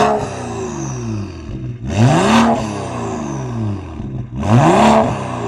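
A BMW N55 car engine revs hard twice, each rise climbing to a loud roar before dropping back to a throaty idle.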